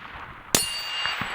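A rifle bullet strikes a steel target plate at a long-distance outdoor range, giving a single sharp metallic clang followed by a ringing tone that fades over the next second.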